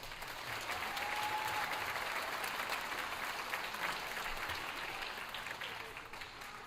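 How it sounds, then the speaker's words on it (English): A school concert audience applauds the 7th grade band, producing a full, continuous patter of many hands clapping that rises, holds for several seconds and gently fades. "One more round of applause."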